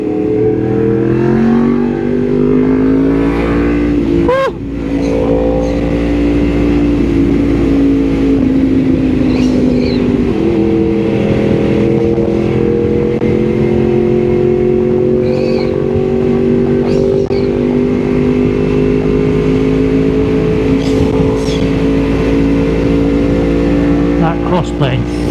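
A Yamaha MT-10 SP motorcycle fitted with an Austin Racing exhaust, ridden on the road with a loud, continuous engine drone whose pitch rises and falls as the throttle changes, close and dominant throughout.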